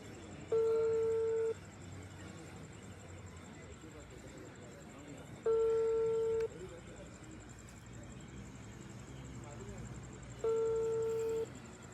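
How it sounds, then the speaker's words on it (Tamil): Three evenly spaced ringback tones, each about a second long, on an outgoing phone call made at night by stranded travellers on a roadside after a bus breakdown; background street noise and faint voices continue underneath. "ரிங் போகுது"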